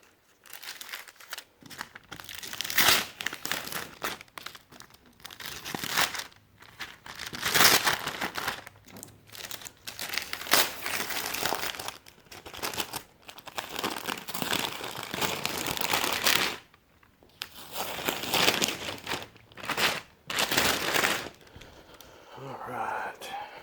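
Masking paper and tape are peeled and torn off a freshly painted surface. Long crinkling rips and crumpling rustles come close and loud in repeated bursts, with brief quiet gaps between pulls.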